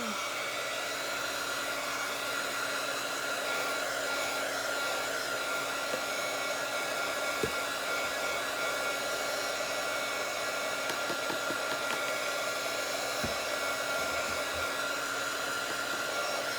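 A hair dryer blows continuously over a painted craft project for drying, a loud steady whooshing roar with a few faint knocks and clicks underneath.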